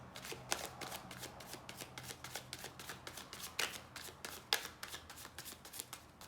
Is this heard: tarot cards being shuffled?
yes